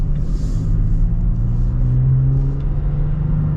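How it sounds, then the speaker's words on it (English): A 2023 Toyota Tacoma TRD with its TRD exhaust pulls away, giving a continuous low engine drone and rumble that rises gently in pitch as it accelerates, heard steadily from inside the truck. "Definitely sounds a bit louder though too with the TRD exhaust, which I don't think that's a bad thing."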